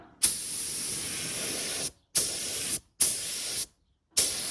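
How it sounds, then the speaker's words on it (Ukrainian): Spray gun applying thin coats of lacquer, heard as four steady hissing bursts of about one to two seconds each, separated by short silences, loud and close with no talking. "Дамо зо три слої лаку помаленько, хай він собі чіпляється гарно."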